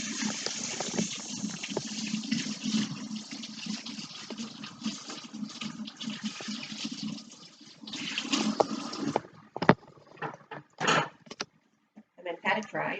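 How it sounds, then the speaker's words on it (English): A salmon fillet is rinsed under cold running tap water, a steady gushing splash for several seconds that stops as a person starts talking. "Just rinse it off under cold tap water."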